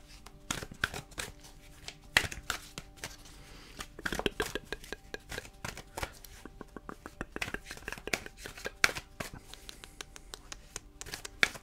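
Tarot cards are shuffled close up in quiet surroundings, a soft run of riffling, flicking and shuffling bursts with brief pauses between them.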